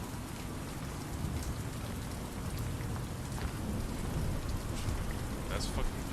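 Steady rain falling outdoors, a dense constant hiss with scattered sharper drop patters, loud and close throughout.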